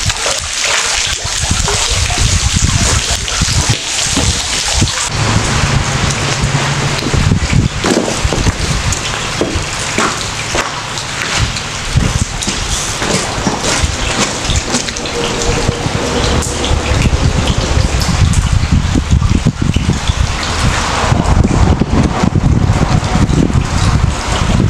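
Steady rain pattering down outdoors during a catfishing outing, a dense continuous hiss of drops with occasional splashes and some wind, loud and close throughout.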